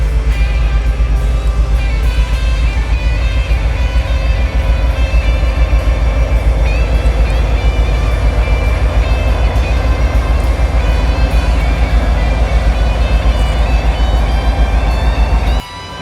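A heritage diesel locomotive in YN2 paint rumbles past loud and close, with a steady heavy engine drone, rattling cars and layered mechanical tones holding throughout before cutting off at the end.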